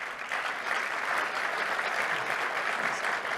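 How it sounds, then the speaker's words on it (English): Audience applause for a panel at a developer conference, a continuous crowd of hands clapping, steady and fairly loud, with no talk. "So give these guys a nice round of applause."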